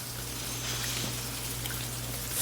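Steady rain falling on a surface, a continuous soft hiss with scattered drops, set within a song and holding even throughout.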